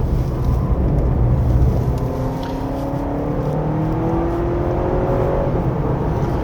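A 2025 Honda CR-V Hybrid 4WD engine rises and falls in pitch as it revs on a winding road, a steady droning whir with a drifting tone, continuous and fairly loud, no voices.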